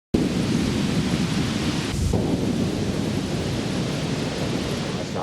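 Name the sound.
thunderstorm sound effect with thunder and rain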